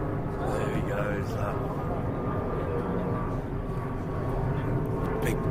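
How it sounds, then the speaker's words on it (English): A big British Airways passenger plane circling overhead on approach to Heathrow above a cricket match, a steady broad jet rumble filling the background while people talk over it. "Big British Airways plane circles overhead on its way to Heathrow."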